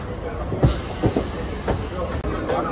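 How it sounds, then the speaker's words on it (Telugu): A Rajahmundry to Visakhapatnam MEMU express train runs along the track, with a continuous loud rumble and rhythmic clacking of wheels over rail joints. "Full view of Rajahmundry Visakhapatnam memo express."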